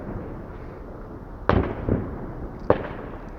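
Bonfire Night fireworks bang in the dark sky, two sharp, loud bursts with rumbling tails about a second apart over a steady outdoor hiss, with no talk.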